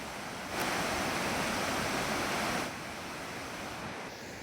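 A waterfall in Kerala running heavy after rain, a steady broadband roar of rushing water that swells louder for a couple of seconds, then settles back to a constant wash.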